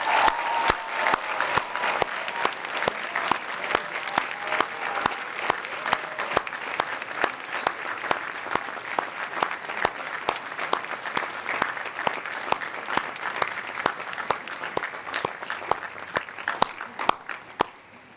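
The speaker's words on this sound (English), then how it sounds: "join me in a big, heartfelt, collective round of applause" An audience at a 2023 commencement ceremony gives a long, sustained round of applause, many hands clapping steadily and evenly for a while before thinning out at the end.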